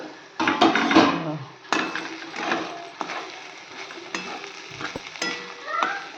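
Turmeric and spices fry and get stirred in a pan before fish goes in, heard as bursts of scraping strokes over a low sizzle, with a brief high whining tone near the end.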